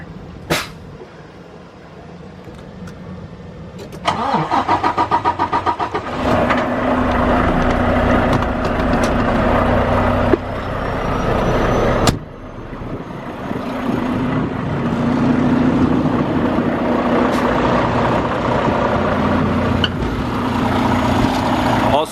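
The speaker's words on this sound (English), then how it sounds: "I'm going to start the engine and open the hood so you can listen to the engine." A 2019 Volvo VNL 760 truck engine with 448,000 miles cranks and catches, then idles in a steady low rumble, with a few clunks and thuds and a voice speaking over it.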